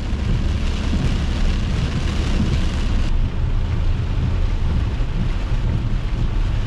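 Heavy rain pours down in a thick, constant roar of broadband hiss, close and loud, with a low rumble underneath and no one talking.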